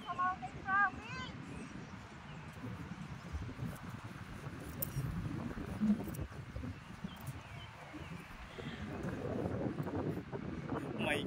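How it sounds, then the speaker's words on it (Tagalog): Strong wind buffets the microphone in a continuous low roar throughout, outdoors high in Mountain Province, with brief voices at the start. "malakas ng hangin"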